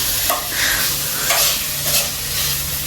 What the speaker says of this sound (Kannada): ಇವಾಗ ನಮ್ಮಪ್ಪ ಸುಮ್ಮನೆ ಹಿಂಗೆ ಫ್ರೈ ಮಾಡ್ತಾರೆ ಅಷ್ಟೇ.